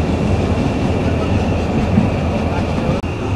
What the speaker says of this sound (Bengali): আমাদের ট্রেন চলতেছে